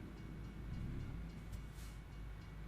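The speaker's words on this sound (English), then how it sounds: "Man, I hear another train." A train passing on a Texas route in American Truck Simulator, a steady low rumble of rolling cars at moderate distance, faint and continuous with no talk.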